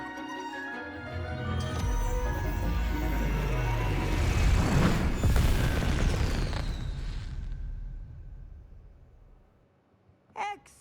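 Bombarda spell explosions in Hogwarts Legacy, a long rumbling blast that swells loud over several seconds, then fades to near silence before a short sharp burst near the end.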